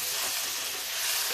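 Lobia beans and potatoes frying in a pan, a steady dense sizzle and hiss close up, constant and unbroken with no talk.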